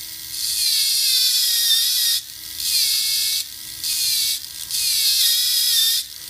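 A high-pitched power tool trims the edges of a carbon fiber reinforced Tamiya Mini 4WD VS chassis, whining loudly in several sustained passes broken by brief pauses, with no talking.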